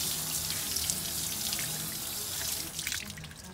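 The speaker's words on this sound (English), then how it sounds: "flush everything through the faucets until I can't smell anything" Water runs steadily from RV faucets into a stainless steel sink during dewinterizing of an Airstream fresh water system, a continuous splashing rush with a slight shift in the flow near the end.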